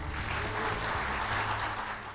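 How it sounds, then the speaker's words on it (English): An audience at a corporate event hosted for Maruti Suzuki claps in a sustained round of applause. The dense patter of many hands sounds fairly distant and soft throughout. "let's give ourselves a big round of applause"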